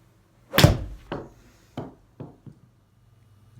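A Mizuno JPX-900 Tour iron strikes a golf ball outdoors: one sharp, loud impact click, followed by a few fainter thuds and knocks that trail off into quiet.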